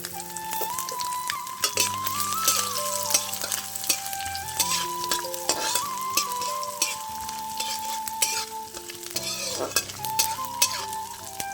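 Grated coconut fries and gets stirred in a pan with steady sizzling and scraping strokes, while a melodic background tune plays throughout.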